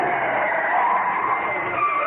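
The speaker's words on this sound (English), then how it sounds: "The Archdeacon in his car drives a little faster than he should" A car driven a little too fast rushes past with a steady, loud whooshing road roar and a hint of tyre noise, continuous and close with no voices.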